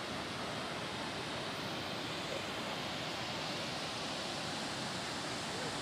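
Heavy water pours over the Gargalheiras dam spillway in Acari, Rio Grande do Norte, making a dense, constant, loud roar with no breaks and no voices.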